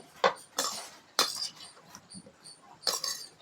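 A spoon mixes ginger and garlic paste in a bowl for paneer tikka, giving a few faint, sharp clinks and scrapes against the bowl with quiet gaps between strokes.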